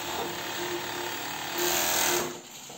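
A sewing machine stitches a bra seam with a continuous, close, loud motor whir and rapid needle buzz that swells briefly, then eases off near the end.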